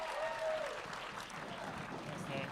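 Audience applause for Nate Banky at a 2021 film festival event, a steady spread of clapping from a crowd that holds evenly, fairly quiet and distant, with a faint voice tone near the start.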